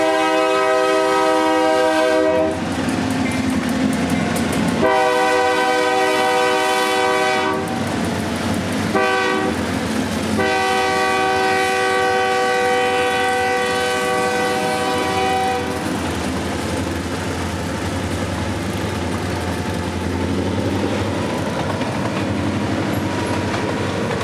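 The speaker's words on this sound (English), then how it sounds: "forcing the crew of today's train to open up their four little engines for the slope onto the high ground" A Georgia Northeastern Railroad freight train climbs a grade with four engines working hard, its horn sounding long blasts and shorter toots over a steady, loud diesel rumble and faint wheel clatter.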